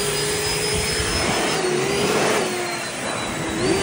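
Ryobi handheld backpack leaf blower running on turbo, a loud steady roaring whoosh with a high whine, close and continuous without any talk.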